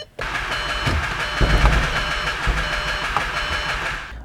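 The engine of a Volkswagen Jetta GLI with a bad starter cranks continuously and close up, a steady mechanical churn with some uneven surges.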